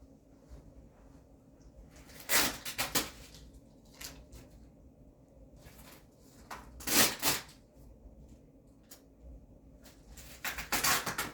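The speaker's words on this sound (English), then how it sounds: "So what you see in front of you is a wrapped side-by-side grow. Let me unwrap it for you." Plastic wrapping being pulled off a side-by-side hydroponic and living-soil tabletop grow setup, three loud crinkling rustles close to the microphone separated by quieter pauses, with no talking.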